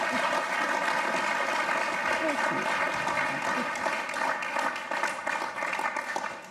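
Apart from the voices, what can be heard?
audience applause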